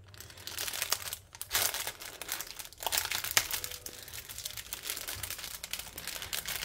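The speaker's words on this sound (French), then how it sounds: "je vais ouvrir le sac d'aiguilles" A plastic bag of diamond-painting needles is crinkled and torn open up close, with bursts of loud crackling rustle and short pauses between handling.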